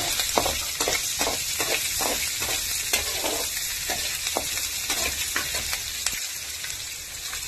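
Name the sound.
onions sizzling as they fry in oil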